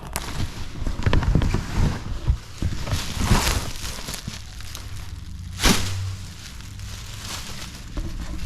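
Plastic wrapping is peeled and crinkled off a new Tamiya Super Clodbuster Grey Edition RC truck, giving close, dense crackling bursts with a sharper rip near the middle and no talking.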